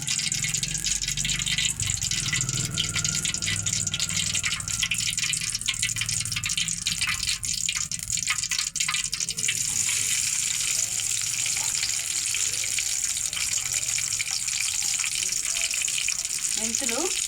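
Mustard seeds and cumin sizzling in hot oil, a steady close crackle and spatter that runs throughout, with someone speaking over the frying.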